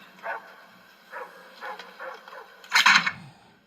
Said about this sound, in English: The dog's really barking.